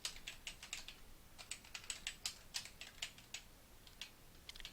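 Someone types a password on a computer keyboard, a quiet, quick run of light key clicks in uneven bursts, close by with no talk.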